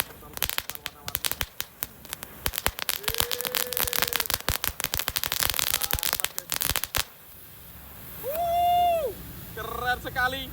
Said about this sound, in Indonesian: Ngabuburit seru nyumet mercon warna-warni.